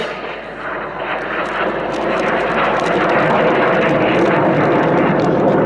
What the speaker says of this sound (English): This particular aircraft, built by the British Aircraft Corporation at Wharton in 1970.